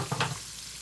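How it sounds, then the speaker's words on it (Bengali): Chopped onions hit hot oil in a pan while cooking spiced egg bhuna, giving a short, close sizzle and crackle with a stirring scrape that lasts under a second. "দিয়ে আমি এখন এখানে দিয়ে দিব কাটি রাখা কিছুটা পেঁয়াজ"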